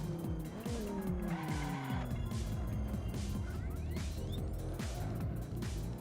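A race car sliding through a corner in a racing game, tires squealing in repeated rising and falling whines over the steady engine drone, loud and close.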